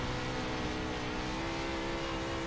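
A 410 wing sprint car on the Bristol dirt track in iRacing, a steady high-revving engine drone held constant, fairly quiet and continuous with no talk.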